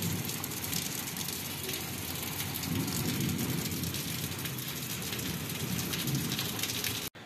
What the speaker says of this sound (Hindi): एते जोर वर्षा पड़ला